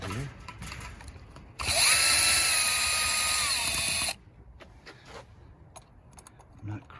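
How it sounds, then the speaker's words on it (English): A cordless drill whirs once for about two and a half seconds while driving screws into a Schlage door lock on a metal gate, loud and close, with quiet handling noises before and after. "You can use a cordless drill, or you can just do it by hand with a regular screwdriver."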